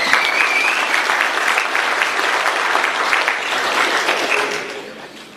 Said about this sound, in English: let's give Jose a round of applause